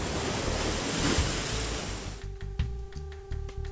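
Surf at the mouth of an estuary near Ensenada, Mexico, with ships offshore: a steady broadband wash of waves and wind for about two seconds, then thinner, lighter splashing with a faint tonal hum behind it.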